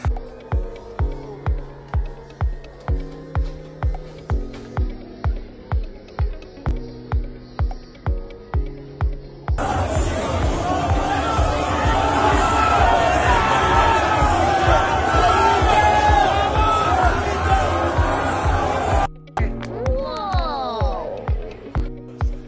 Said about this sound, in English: Another angle of the crowd barrier collapsing during Merab's walkout at UFC 316